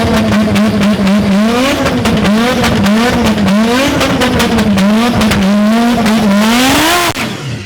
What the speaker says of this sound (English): Let's see the burnout that it does.